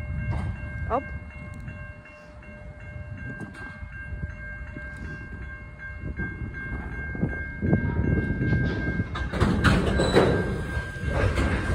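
A distant train horn sounds against the rumble and clatter of rail cars moving nearby in Ferndale, with steady low mechanical noise throughout.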